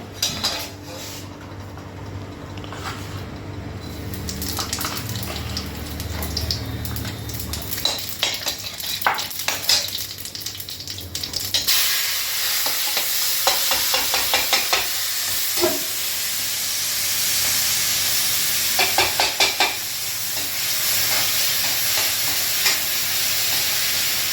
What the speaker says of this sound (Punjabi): ਹੁਣ ਇਹਦੇ ਵਿੱਚ ਪਾਵਾਂਗੇ ਜੀ ਆਪਾਂ ਜਵੈਣ ਤੇ ਜੀਰਾ